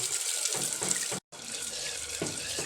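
Tap water runs steadily into a sink as mushrooms are washed under it, a loud continuous splashing rush that breaks off for a moment and then resumes.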